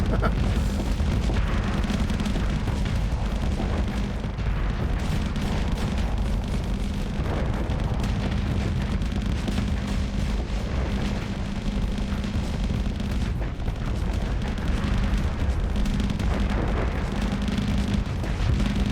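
Plasma torpedoes detonate in a Starsector space battle, a dense continuous rumble of booms and blasts layered with weapon fire, loud and sustained throughout.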